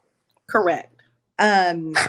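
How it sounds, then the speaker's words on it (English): A pet dog at home during an online group conversation lets out two close, whiny yelping barks, the second longer, with a brief spoken word mixed in. "That's my dog, in case y'all can hear that."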